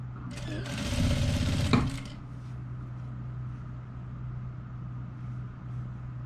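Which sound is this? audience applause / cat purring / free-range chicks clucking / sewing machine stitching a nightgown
sewing machine stitching a nightgown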